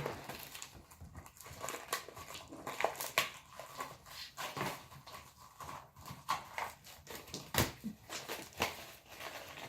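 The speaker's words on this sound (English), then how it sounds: "Yeah, cellophane, huh?" A cellophane wrapper is peeled off a comic book, producing faint, irregular crinkling and crackling bursts that rise and fall over several seconds, close but quiet.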